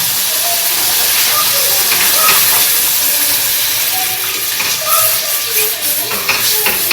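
Water poured onto ground spice paste in a hot pan sets off a loud, steady hiss of steam and sizzling, close up, with light stirring and a voice faintly under it.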